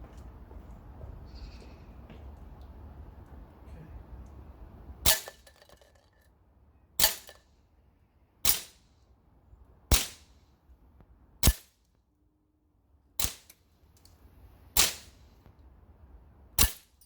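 An HK416A5 Gen2 gas blowback airsoft rifle fires seven sharp, separate shots at 15 meters, spaced one to two seconds apart, each with a crisp snap over quiet outdoor background.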